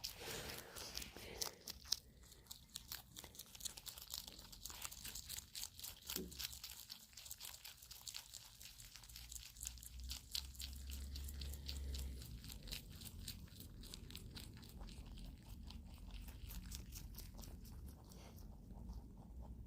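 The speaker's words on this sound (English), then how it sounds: "Oh, he munching." Pet rabbits munching and crunching leafy breakfast food, a steady close stream of soft crunching, crinkling and chewing that goes on throughout at low volume without talk.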